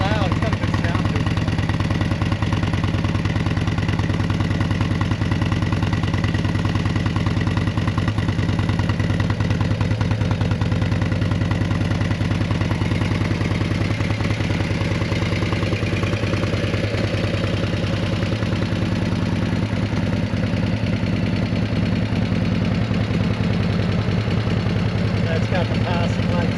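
An old Harley Davidson engine idles close by with a continuous deep, uneven throbbing rumble and light mechanical clatter, steady across the whole stretch while people chat nearby.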